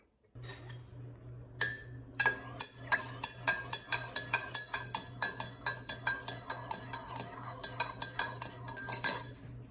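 A spoon stirs tea in a cup, sounding as a quick run of bright metal-on-ceramic clinks, about two or three a second and close up, with a faint steady hum underneath.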